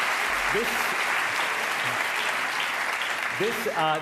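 Steady applause from an awards ceremony audience fills the room continuously, with brief voices speaking over the clapping near the beginning and again toward the end.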